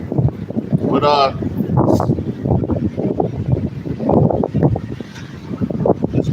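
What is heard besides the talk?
strong wind blowing into microphone outdoors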